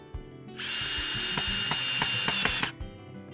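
A power driver sets screws through 4-foot pieces of 2x4 lumber into a wooden gate frame for a chicken fence. One whirring, ratcheting burst of about two seconds is heard close up, with a few clicks before and after.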